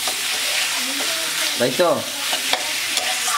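Bengali home-style chicken curry being stirred in a frying pan: a steady, close sizzle with scraping strokes of the spoon, and someone speaking briefly over it.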